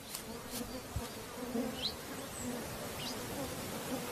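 Flies buzzing in late-summer Caucasus mountains, a faint steady insect drone with a few passing buzzes over quiet outdoor ambience.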